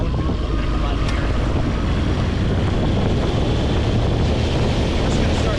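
A Tracker Grizzly Sportsman boat motor drones steadily under heavy wind buffeting and rushing water, loud and close throughout with no break.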